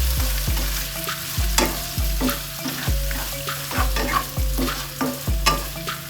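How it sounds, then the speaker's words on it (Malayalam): Ten to fifteen raisins frying in hot fat in a pan for chicken biryani, a loud steady sizzle under a regular rhythm of spoon clinks and scrapes against the pan, no voices. "ചെറുതായിട്ടൊന്ന് വറുത്ത് വരട്ടെ. ഒരു 10-15 കിസ്മിസേ അത് ഇട്ട് കൊടുത്തേ."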